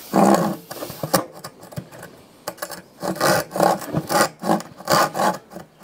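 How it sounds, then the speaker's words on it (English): Coarse teeth of a Parkside 3-in-1 hand saw rasp through wood in repeated strokes, irregular at first and then a quicker, steady back-and-forth rhythm, loud and close with no talk. "these saws, they cut when you pull them"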